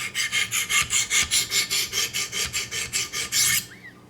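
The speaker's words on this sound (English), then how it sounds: "we're going to start with 200 grit, and we're going to just see how the grinding starts looking here" A Benchmade 940 knife blade in M4 steel is ground on a 200 grit Wicked Edge sharpening stone, giving a steady run of about fifteen loud, close rasping strokes that then stop.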